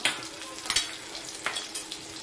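Asafoetida sizzles in hot oil as a tempering for okra, with a steady bright crackling hiss and a few sharper pops and spatters; no one speaks.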